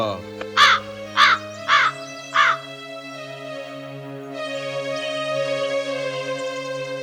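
A crow caws four times in a cartoon retelling of the Ramayana, where the bird tests Rama by pecking at Sita's feet. The harsh, evenly spaced calls sit over sustained background music that swells afterward.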